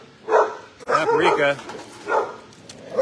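Paprika, a shelter dog in her kennel, lets out bursts of loud barking at close range, several separate outbursts across the moment with short gaps between them, and kennel noise around her.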